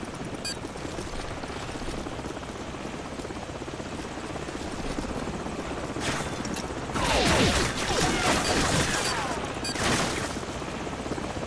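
A helicopter's rotor drones steadily throughout in Call of Duty 4, joined later by louder bursts of rapid gunfire.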